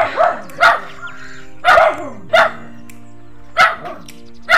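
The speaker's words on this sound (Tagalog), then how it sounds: "At siyempre nakapakaingay ng aso." A dog barks loudly and repeatedly near a tower, sharp yaps in irregular bursts of one or two, close by and dominating the scene.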